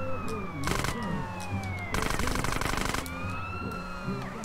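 A wailing ambulance siren in the video game GTA San Andreas, sweeping up and down in pitch and holding steady throughout, mixed with loud bursts of game noise and effects.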